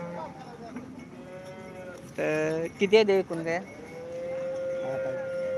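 Cows at the Modnimb livestock market give a few loud, close moos in the middle of the stretch while someone talks before and after.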